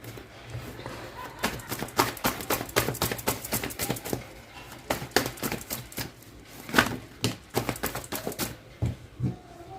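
Dense run of quick papery flicks and slaps as tarot cards are shuffled and drawn, fairly close and steady in rhythm, with a faint low hum beneath and no talking.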